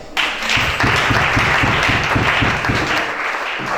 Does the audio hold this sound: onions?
no